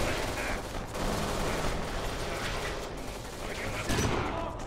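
Sustained gunfire during a shootout in the video game Kane & Lynch 2, a dense wash of overlapping shots at moderate loudness with occasional sharper bursts standing out.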